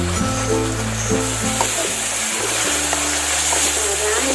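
Cassava leaf gulai curry sizzles and bubbles steadily in a pan, a constant close frying hiss with faint background tones.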